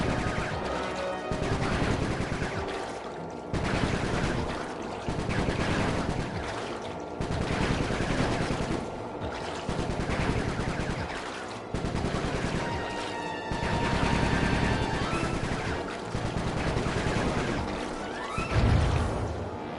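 Dense, continuous gunfire in the Sly 3 video game, loud repeated bursts that pulse roughly every couple of seconds over a steady rumble of action sound, without any talking.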